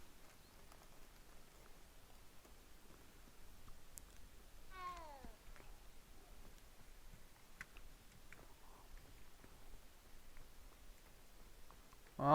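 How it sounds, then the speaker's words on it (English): Faint, distant cat meows from the cats in the video game Hogwarts Legacy, one clear drawn-out call midway with scattered softer sounds over quiet ambient noise. "There's cats."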